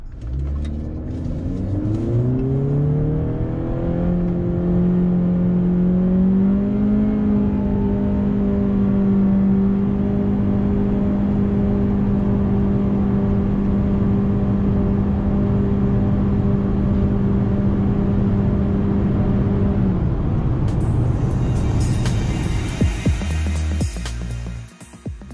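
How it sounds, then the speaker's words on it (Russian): Honda Accord 10th generation engine revving hard under a full-throttle acceleration test, a loud rising mid-pitched drone that climbs, holds steady for many seconds, then cuts off near the end with a burst of wind or road noise. "Я вам сейчас выведу на экран одного американца, который тестировал эту машину на разгон."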